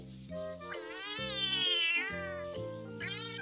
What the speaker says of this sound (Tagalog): meron tayong 2 months na kuting na pagkakulit-kulit